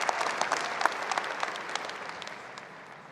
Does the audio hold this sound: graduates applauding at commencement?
yes